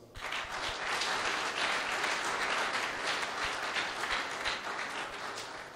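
Sustained applause from a crowd at a political party general assembly, dense steady clapping at a constant level through the whole stretch with no speech over it.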